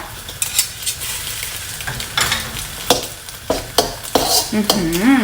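Rice noodles stir-fried in a pan with a splash of extra oil, steady close sizzling broken by repeated spatula scrapes and clanks against the pan, a brief tonal squeak near the end.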